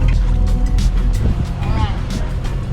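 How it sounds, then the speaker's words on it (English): A sailboat's auxiliary engine runs steadily under motor after the wind dropped, a continuous low rumble with water noise, while a person talks over it. "When we lost the majority of our wind, we fired up the engine and doused a few sails."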